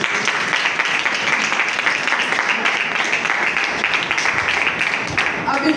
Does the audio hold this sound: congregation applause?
yes